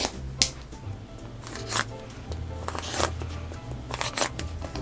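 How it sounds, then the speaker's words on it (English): Fabric sashing strips cut along a Stripology ruler: a series of short, light slicing ticks spaced over a low steady hum, close by and fairly quiet, with no voices. "now we're going to cut all of our individual sashing pieces"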